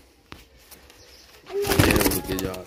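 Sialkot pigeons of the famous paired breed coo, softly at first, then a louder, fuller cooing swells up in the second half amid background voices and room noise.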